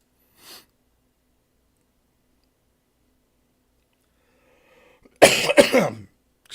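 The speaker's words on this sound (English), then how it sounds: "I can't get rid of this cough." A faint short burst early on, then two loud harsh coughs close by near the end, separated by long silence.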